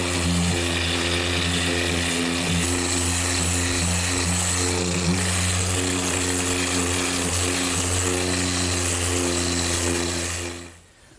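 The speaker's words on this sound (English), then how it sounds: "I'm just going to use my random orbit sander, which is a relatively new tool to the woodworking trade" A random orbit sander works steadily on a wood panel in a woodshop, a loud continuous whirring hum with a grainy scratch that holds even for about ten seconds before winding down.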